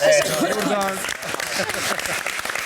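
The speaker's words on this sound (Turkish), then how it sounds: "Buradan mirin Mihri'nin annesine bir alkış." A studio audience on a Turkish quiz show bursts into brief applause for a contestant's mother, a short burst of clapping with a voice talking over the start.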